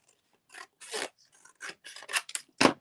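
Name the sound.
hand cutting paper with scissors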